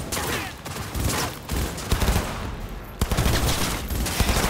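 Rapid, dense gunfire from the video game Cyberpunk 2077, sustained bursts of automatic fire with sharp louder shots near the middle and end, loud and close throughout.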